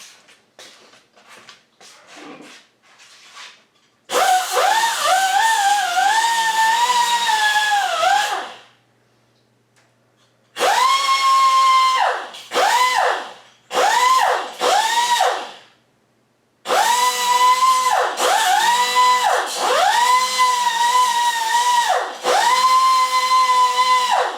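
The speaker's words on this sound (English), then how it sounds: "I'm going to go grind that off" Loud power grinder whirring against metal in several long bursts separated by brief pauses, close up, grinding off a burr, pitch dipping as it bites.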